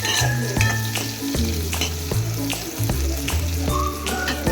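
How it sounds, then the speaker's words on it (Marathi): Cluster beans (gavar) sizzling in hot oil in a pan while being stirred, a loud steady crackling fry with repeated scraping and clanking stir strokes, close by and without talking. "लाल झाला की या स्टेजवर मी लगेच टाकणार ही गवार. घेणार हलवून."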